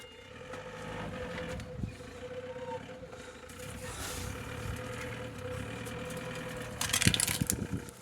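A Mercedes 11V50 truck engine with a turbo and a cracked lower plastic cover idles in a steady low hum with a faint tonal whine, broken by a few brief knocks and a louder burst near the end.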